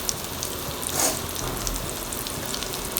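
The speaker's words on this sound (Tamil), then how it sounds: "இப்போ நம்ம வெட்டி வச்சுருந்த வெங்காயத்தை போட்டுடலாம்" Chopped onion drops into hot groundnut oil and sizzles in a steady, close crackle with a brief louder burst at the start.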